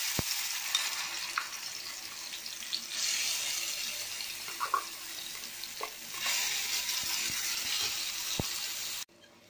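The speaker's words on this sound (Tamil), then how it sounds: "இப்போ இதை நல்லா வதக்கிக்கலாம்" Ground tomato and ginger-garlic paste sautéing in oil in a kadai gives a loud, steady hissing sizzle with occasional spoon taps and scrapes, then cuts off abruptly at the end; no voices.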